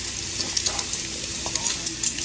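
Food sizzles and fries on a hot Blackstone griddle, a steady close hiss with small crackling pops throughout and no talking.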